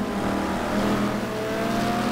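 A Ferrari GT2 race car engine at Anderstorp holds a steady, loud, high-revving drone with a slight pitch rise, close by and unbroken, with no one talking.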